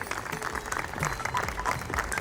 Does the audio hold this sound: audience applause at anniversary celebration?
yes